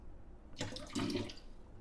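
Tap water runs into a measuring cup for Instant Pot black rice, a close, steady splashing stream of about a second that starts abruptly and stops, alone with no talking.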